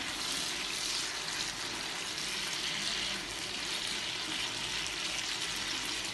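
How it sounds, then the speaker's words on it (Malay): Eggplant and onion sizzle steadily in hot oil in a pan, a continuous crackling hiss heard up close with no talking. "So kita goreng dulu dengan minyak sampai terung tu dan bawang bau bawang dah naik dah"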